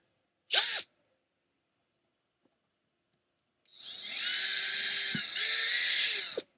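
A power drill backs a screw out of a Fender Acoustasonic guitar, starting with one short whir, then after a pause a longer, steady high-pitched drilling run of a couple of seconds, close and loud.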